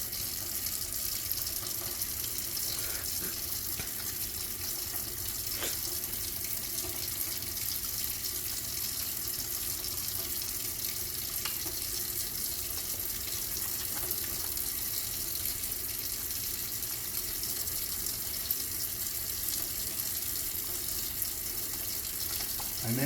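Steady, loud running water from a tap as hands are wetted and washed at a sink, a continuous close wash with faint clatters and no talking.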